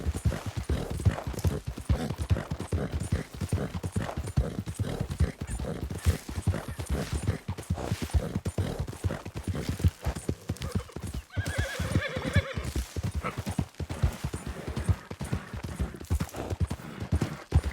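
Horse in the Western video game Red Dead Redemption 2 galloping with rapid, steady hoofbeats, then letting out a loud whinny partway through as the galloping continues.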